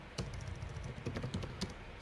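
Fingers tap out a search on a computer keyboard, a steady run of light, close key clicks with a few heavier strokes, alone and fairly quiet.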